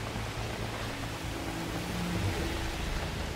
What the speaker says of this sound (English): Squinting in all this rain.